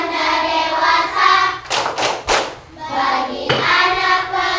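Rhythmic hand-clapping game called 'tepuk tanda dewasa' in a religious-education class, with voices chanting in tune over it and several loud, sharp claps breaking in, some in quick pairs, close by.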